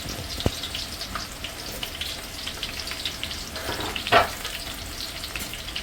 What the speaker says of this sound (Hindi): तेल यहाँ पे मैंने रख दिया, अच्छा खासा गर्म हो गया, तो इसमें डाल रही हूँ प्याज